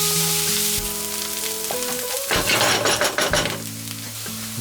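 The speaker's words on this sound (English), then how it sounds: "Add 2 onions chopped and fry this until it is soft." Chopped onions hit hot oil in a pan and sizzle loudly, with stirring scrapes and a brief clink of utensils; the hiss surges midway as the onions go in, over a steady low hum.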